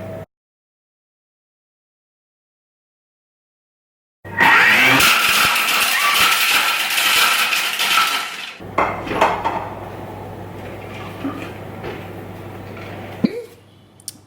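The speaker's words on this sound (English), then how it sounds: "we're going to whisk the eggs. I'm going to do that in the Thermomix" A Thermomix whisks egg whites: after several seconds of silence a loud, high whirring motor starts with clattering, then drops to a lower steady hum before stopping with a clunk.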